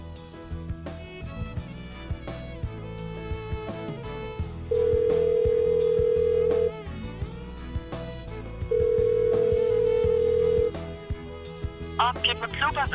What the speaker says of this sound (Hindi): अदनान तो फोन ही नहीं उठा रहा।